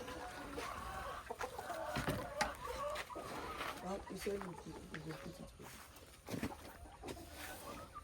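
Chickens cluck and murmur at a farm early in the morning, a mix of close and distant fowl calls under steady background noise and people talking.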